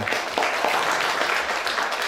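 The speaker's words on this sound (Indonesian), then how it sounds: "Wih, boleh tepuk tangan." A live audience at a young entrepreneurs' business talk event breaks into dense, even clapping that stays steady and fairly loud across two seconds.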